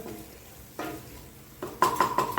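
Vegetable curry with salt is sautéed in a pan. After a fairly quiet start, short scrapes and metallic clinks of a spoon against the pan build up toward the end, with a light sizzle underneath and no talking.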